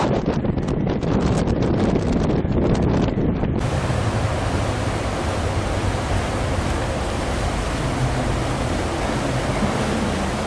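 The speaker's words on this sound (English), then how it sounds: "it is windy" Strong wind on the water near Anacortes, Washington buffets the microphone with a steady, roaring rush, fluttering gusts at first, then a constant loud whoosh.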